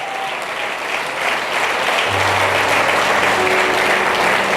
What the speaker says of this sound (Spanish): Un aplauso para el Señor por ello.